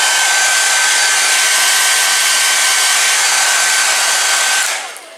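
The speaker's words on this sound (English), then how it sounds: "Do you ever want to just keep the hairdryer going just to warm up" A hair dryer blows in a loud, steady whoosh with a constant high whine, running alone close by before switching off at the very end.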